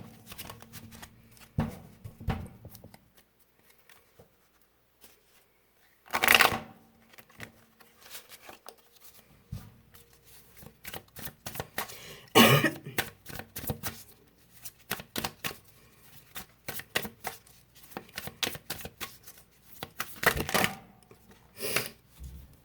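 Tarot cards topple and slap onto a table in several brief clattering bursts, with quieter soft card shuffling and patting sounds between them, close up with no voices.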